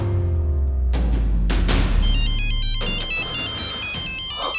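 A loud phone ringtone plays close by, a bright repeating melodic pattern that runs for several seconds without any talking.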